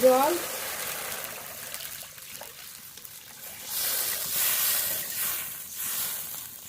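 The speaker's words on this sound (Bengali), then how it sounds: "এবার জল দিয়ে দেবো।" Water poured into sizzling fried masala in a pan while cooking a fish curry, giving a steady hiss and bubbling that swells loudly partway through and keeps going, with no talking.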